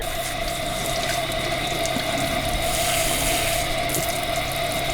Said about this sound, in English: you have to run 2 pumps, one to pump the water into the shower and one to pump it out